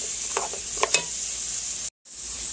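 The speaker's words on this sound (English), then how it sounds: "I want to turn the heat up and saute these for, 5 to 10 minutes until your carrots are starting to get softened" Chopped carrots and other vegetables sauteing over turned-up heat in a pan, giving a steady soft sizzle with a few brief stirring scrapes near the start and a short dropout near the end; no talking.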